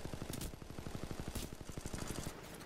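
Rapid automatic gunfire in Titanfall 2, a fast even rattle of shots continuing through the whole stretch, fairly faint.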